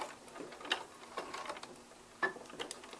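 A sewing machine running a regular straight stitch with a back stitch on a flat fell seam: soft mechanical ticking and whirring at moderate level, with a couple of sharper clacks, no talk.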